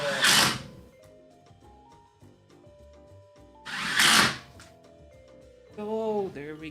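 Power drill driving screws into wooden shed door boards, two loud bursts of whirring with a pause between and a short trailing spin at the end, close by.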